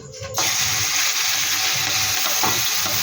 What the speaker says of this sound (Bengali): একটু হালকা করে ভাজা ভাজা করে নেব।